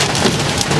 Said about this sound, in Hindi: And you can see the बारिश।